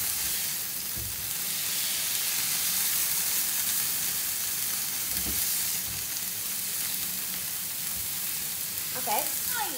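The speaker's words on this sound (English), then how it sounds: "Keep stirring so your vegetables don't get stuck to the pan." Chilies, onions and other vegetables for chilli paneer sizzle loudly in a pan, a constant close frying hiss with occasional stirring scrapes and knocks, a few sharper clinks near the end.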